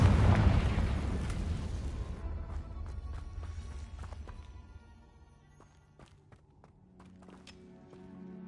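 A Confringo blasting curse detonates in Hogwarts Legacy: one loud booming explosion up front that rumbles and decays over a few seconds, followed by scattered clicks, thuds and small impacts.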